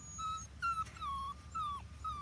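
Schnoodle puppies whimper close by, giving a series of about five high, thin, drawn-out whines with short gaps between them over a quiet background.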